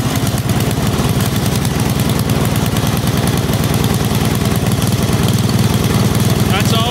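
A Canadiana CS826 snowblower engine, choke on full and throttle open, catches and runs at a steady, loud, continuous idle with a fast pulsing rumble throughout.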